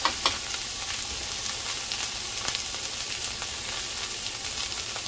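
Sliced squash sautéing in a pan, a constant close-up sizzle with small crackles and pops and the occasional stir or scrape.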